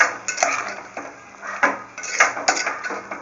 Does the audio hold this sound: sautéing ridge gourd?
yes